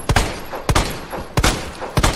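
Four loud, sharp gunshots ring out one at a time at an even, unhurried pace in Resident Evil 2 Remake, each followed by a short echoing tail.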